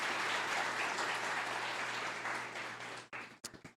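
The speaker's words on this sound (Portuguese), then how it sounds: "Dê para Jesus uma forte salva de palmas." A church congregation gives sustained, dense applause that fills the room at a steady level for about three seconds, then breaks off into a few scattered final claps.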